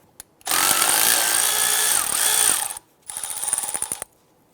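A power tool with a socket spins off the 12mm bolt holding the brake flex line to the strut of a 2001-2005 Honda Civic, a loud sustained whir, a brief pause, then a second rattling burst.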